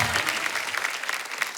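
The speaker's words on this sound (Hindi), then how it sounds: "जोरदार तालियां कृति के लिए" A studio audience on a comedy talk show claps for Kriti Sanon in a quick, dense burst of applause that fades slightly over under two seconds.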